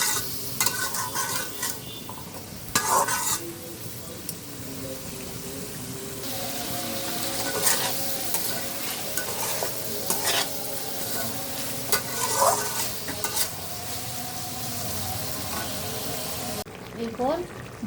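Stems and potatoes fry and sizzle in a pan for a steady stretch, with repeated scraping and clinking stirs rising above the hiss at close range.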